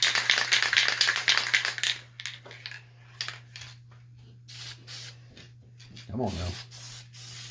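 Polyurethane clear coat is sprayed onto a wooden cutting board in a rapid series of close, hissing bursts for about two seconds, followed by quieter handling noises and a brief spoken phrase.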